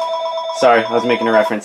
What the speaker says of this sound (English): that's my phone ringing, ignore that